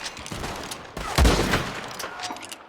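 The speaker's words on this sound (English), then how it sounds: "Shots rang out as Adnan fired his sniper rifle, each shot perfectly placed" Sniper rifle shots ring out in the online Western game Red Dead Online, a few sharp reports over a busy background, the loudest one in the middle.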